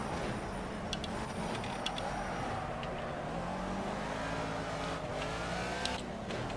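Race car engine in the racing game Project CARS drones steadily throughout, a constant mid-level hum with slight shifts in pitch and no voices.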